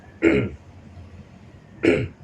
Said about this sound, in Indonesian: Ada orang dehem.